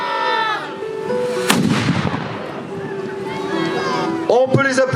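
An artillery cannon at an outdoor event fires a single sharp, booming shot that rumbles away, with people talking before and after it.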